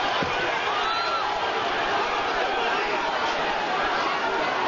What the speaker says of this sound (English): The crowd here has been whipped into a frenzy